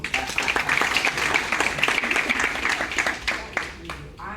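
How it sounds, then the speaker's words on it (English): At an award ceremony honouring George Mitchell, an audience applauds with dense, steady clapping that fades toward the end, with a voice speaking over it. "Let's give her a round of applause."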